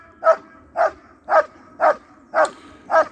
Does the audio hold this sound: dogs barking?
yes